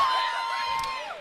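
A loud crowd at a combat-sports bout cheers and whoops in a brief burst, dense shouting voices blending together close by.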